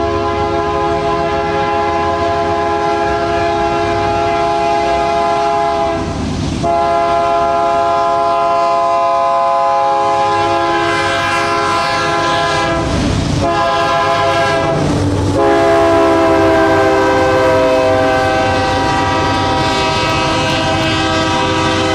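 A Kansas City Southern diesel freight train roars by nearby in downtown Ruston, its loud horn sounding in long sustained blasts over the rumble of the passing cars.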